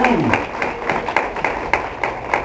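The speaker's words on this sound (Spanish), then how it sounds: "Den un aplauso al Señor" Congregation in a church clapping together during a Spanish-language sermon, a steady rhythmic beat of hand claps about every quarter second, moderately loud and sustained, with no talk over it.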